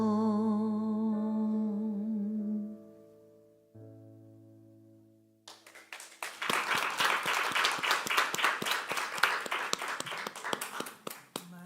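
A live audience breaks into dense, steady clapping after a sung performance at a spiritual gathering; the applause rises in the second half and continues to the end, following sustained vocal tones.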